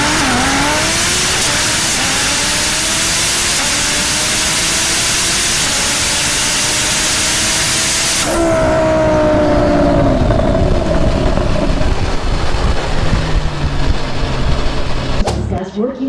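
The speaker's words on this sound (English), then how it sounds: "I've got another twin-turbo Audi R8 that makes 1300 horsepower. Let's check it out in another race." A 1300-horsepower twin-turbo Audi R8 is racing. Its loud, close engine roars and climbs through gears, with a sharp shift partway through and a sustained, harsher roar afterwards.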